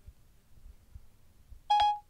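A single short, bright electronic beep from Siri on an iPhone sounds clearly after near-silence.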